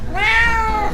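A cat lets out a single close, clear meow that rises and falls within about a second, with no talking over it.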